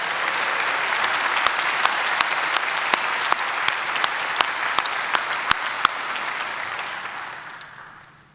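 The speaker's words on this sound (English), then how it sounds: "Give her another round of applause." A crowd at a judicial investiture ceremony applauds steadily for several seconds, a dense wash of clapping with a few sharp louder claps standing out, then it fades away toward the end.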